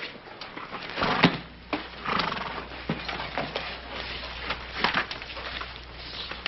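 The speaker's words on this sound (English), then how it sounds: "Take care of your horse?" Horse in a Western setting, with hoof clatter and whinnying over a continuous low hum, and sharp knocks and thuds scattered throughout, moderately loud and close.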